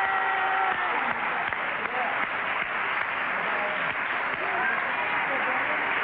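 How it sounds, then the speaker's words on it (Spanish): Studio audience at a 1989 television show applauds in a steady, dense wash of clapping that holds at full level throughout, with some voices mixed in. "Un aplauso a las muchachas, a los chicos que están en el estudio."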